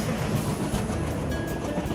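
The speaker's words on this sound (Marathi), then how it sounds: "रेल्वेच्या चाकांमुळे निर्माण होणारा आवाज" An Indian Railways train rolls past with its wheels clattering over the rails, a steady, close, loud rumble with faint rhythmic clicks throughout and no voices.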